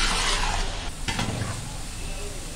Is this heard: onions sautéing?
yes